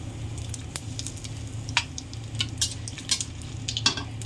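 Cumin seeds, added with chilli, sizzle quietly in hot oil in a pan while being stirred. Irregular scraping and clinking of the utensil against the pan sound up close over the soft frying.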